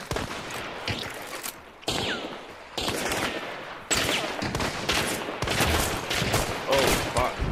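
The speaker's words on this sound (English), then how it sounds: "That's a shotgun." Shotgun blasts in a video game firefight around a house's front yard and porch, a string of loud, close booming shots in quick succession, with other gunfire crackling between them.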